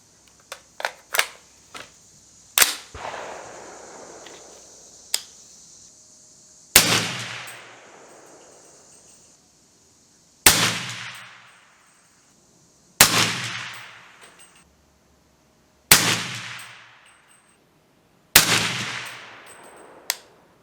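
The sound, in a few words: 300BLK rifle shots, V Seven fluted barrel, H110 loads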